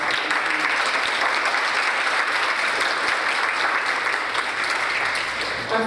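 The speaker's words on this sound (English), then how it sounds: "A big round of applause." Sustained audience applause at a youth mental health symposium, a dense, even wash of clapping from many hands that continues steadily for several seconds without talk.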